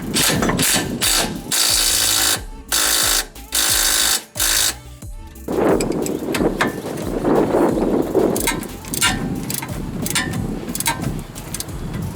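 A hand ratchet tightening the coilover bolts on a drift Mazda Miata, with quick bursts of clicking broken by short pauses, followed by busier mechanical clatter and rattling close by.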